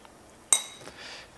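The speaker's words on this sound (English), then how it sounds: "I'm going to put an onion in it." An onion drops into a glass of tap water with a single sharp glassy clink, followed by a brief soft splash and slosh, close and otherwise quiet.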